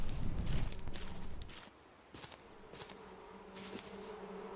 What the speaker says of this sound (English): We can hear them. Hear the bees or the bugs.